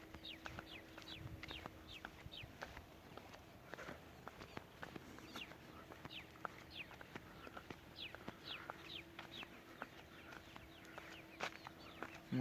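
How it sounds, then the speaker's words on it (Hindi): Birds call outdoors near Jacobabad where parrots are hunted, with faint, scattered chirps and short whistled notes against a quiet background, mixed with occasional soft clicks and rustles and no talking. "वो आवाज़ आ रहा है चिड़ियों का।"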